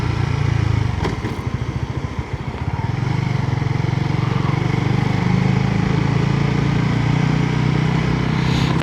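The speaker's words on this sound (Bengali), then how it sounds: "আমার বাইকের পিছনের বক্সটা ঢিলা হয়ে গেছে, এর জন্য অনেক শব্দ হয়।" Motorbike ridden at night with a loose rear box, a loud continuous engine drone with faint rattling clatter from the box riding along underneath, holding steady throughout with a brief dip midway.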